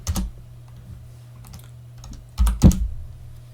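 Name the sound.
typing a password on a computer keyboard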